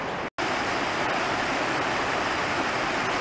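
A creek beside a hiking trail flows with a steady, close rushing wash, dense and unbroken apart from one brief dropout near the start.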